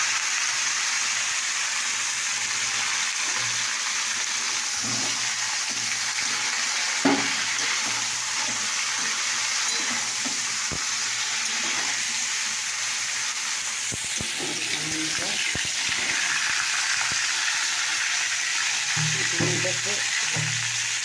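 Potatoes sizzle steadily in hot oil with a bay leaf, a constant frying hiss with occasional stirring clinks and scrapes, close and fairly quiet, with a voice speaking briefly now and then.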